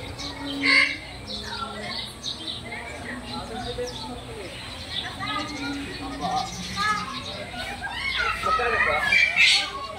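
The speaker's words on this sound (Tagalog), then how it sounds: "Iba't ibang species ng mga ibon nandito dito ngayon." Many bird species in an aviary chirp and squawk in a busy, layered chorus, some calls close and bright, with people talking throughout.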